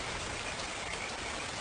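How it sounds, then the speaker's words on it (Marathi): Rain falls in a steady, even hiss with no distinct drops or other sounds, moderately quiet and continuous. "सगळा पाऊस पडतोय ना,"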